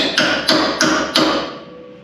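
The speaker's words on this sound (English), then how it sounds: "we gotta take this really massive hammer" A massive hammer strikes the frame rail of a 1956 Chevy in a garage, four loud ringing metallic blows at a steady pace, each ringing out briefly before the next.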